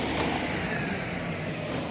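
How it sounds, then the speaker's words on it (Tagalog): A noisy, poorly maintained truck passes on a city street near a pedestrian crossing, giving a continuous low engine rumble with a short, louder burst near the end. "maingay po yung truck"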